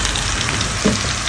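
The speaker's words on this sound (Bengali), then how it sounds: "এখানে মাছ ভাজতেছি," Small prawns fry in a pan in a home kitchen, giving a steady close sizzle with a brief stir or spatter partway through.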